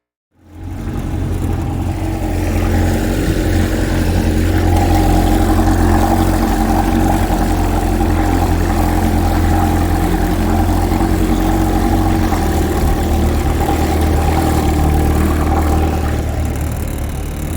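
A 1980s Evinrude 25 HP two-stroke outboard motor runs steadily on a river, a loud, continuous low engine drone holding an even pitch throughout with no voices.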